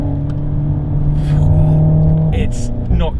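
A Renault Megane RS 280 EDC (2018) hot hatch engine revs and pulls hard, its droning pitch rising steadily before a brief gear shift into third, heard from inside the cabin.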